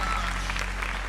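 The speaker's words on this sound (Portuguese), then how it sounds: "Aplauda o Senhor!" A church congregation claps in unison, a dense, loud, steady wash of applause that fills the space without pause, with no voices standing out.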